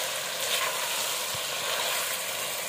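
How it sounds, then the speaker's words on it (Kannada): Mutton biryani frying in a pan: a steady, even hiss of sizzling oil fills the moment, fairly loud and close, with no talk. "ಚೆನ್ನಾಗಿ ಫ್ರೈ ಆಗಲಿ"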